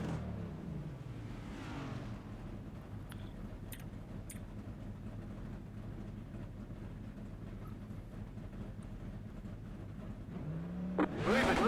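A NASCAR NextGen car engine in the iRacing sim at Pocono Raceway, heard as a steady, droning engine hum with a short rising rev near the end.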